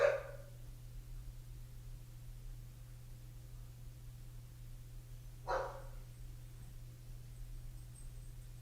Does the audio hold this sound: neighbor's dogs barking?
yes